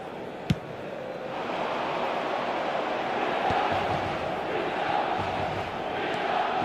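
Virtual stadium crowd in the eFootball 2026 mobile video game, a steady wash of roaring, chanting spectators with a sharp thump near the start, continuous and full throughout.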